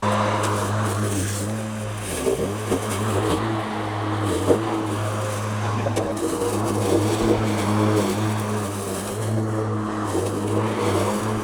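A Mowrator S1 robotic mower drives over grassy terrain, its motor droning steadily up close with a low tonal hum and brief dips and surges as it crosses bumps, with no talk.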